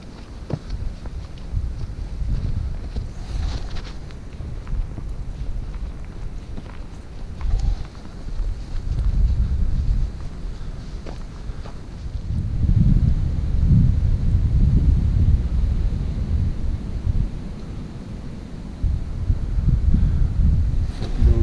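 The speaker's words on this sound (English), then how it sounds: "A bit windy, but it's awesome." Strong gusts batter a microphone on a hiking trail, a heavy low roar that surges and eases in waves, loudest in the second half, with occasional footsteps and rustling underneath.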